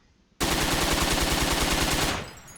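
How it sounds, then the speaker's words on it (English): A Thompson submachine gun fires one long, rapid, loud burst of about two seconds in the Forgotten Hope 2 video game, starting abruptly and trailing off into a brief indoor echo. "this is how the bullet impacts are like when you are firing in a longer burst"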